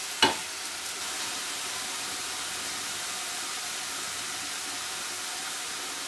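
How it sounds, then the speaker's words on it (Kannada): Ginger and garlic fry in hot oil for a mushroom gravy, making a soft, even sizzling hiss that continues steadily after a single sharp knock of a utensil at the start. "ಈ ಶುಂಠಿ ಬೆಳ್ಳುಳ್ಳಿ ಚೆನ್ನಾಗಿ ಫ್ರೈ ಆದಮೇಲೆ"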